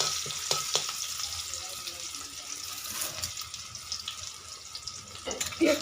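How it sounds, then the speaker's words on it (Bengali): Chopped onions and two dried red chillies sizzle in hot oil in a home kitchen pan, a steady crackling hiss that runs throughout with occasional sharper pops and faint clinks. "দিয়ে দিচ্ছি কুচিয়ে রাখা পেঁয়াজ, দুটো শুকনো লঙ্কা, পেঁয়াজটা একটু ভেজে নিচ্ছি"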